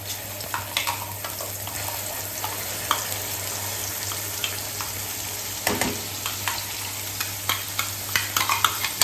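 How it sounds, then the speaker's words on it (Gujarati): Spice paste for a Vadodara-style tari chutney frying in hot oil in a pan, a constant close sizzle and crackle with occasional sharp pops and stirring scrapes, no voices. "હવે આપણે જે તરી ચટણી માટેનું જે આપણે પેસ્ટ તૈયાર કરી હતી એને આપણે તેલમાં એડ કરી લઈશું"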